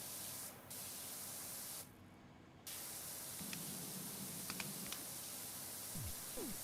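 Continuous broad hiss of a pressure washer spraying through a yellow nozzle in the PowerWash Simulator 2 video game, steady and fairly quiet, with two brief dropouts and faint clicks near the end.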